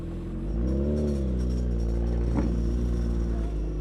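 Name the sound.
Suzuki Hayabusa 1300cc motorcycle with full exhaust riding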